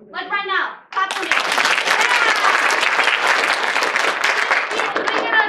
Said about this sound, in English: So, when you hear any of those words, you're going to clap. Like right now. Clap for me.